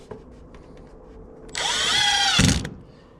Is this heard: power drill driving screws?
yes